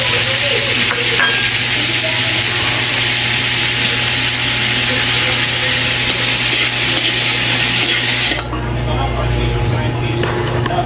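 Ground meat for chowfan sizzles loudly in a hot pan while being stirred and scraped continuously, a dense steady frying hiss that drops off abruptly near the end.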